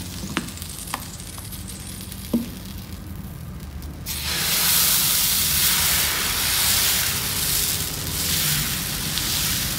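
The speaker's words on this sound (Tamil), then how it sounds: "இப்போ தோசைக்கல் சூடாகிட்டுருக்கு, நல்லா சூடாயிடுச்சு. இப்போ தோசை ஊற்றலாம்." Tomato dosa batter hits a hot griddle at about four seconds, bursting into a loud, steady sizzle that continues to the end, after a few faint clinks in a quiet kitchen.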